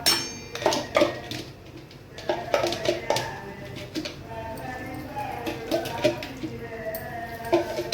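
Semolina roasting in ghee in a home kitchen pan for mango sheera, with a spoon scraping and clinking against the pan in irregular bursts, close by, with faint background noise between strokes.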